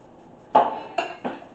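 A metal spatula clatters against a baking pan while cake-mix cookies are lifted off it, three sharp clanks spaced about half a second apart, close and fairly loud.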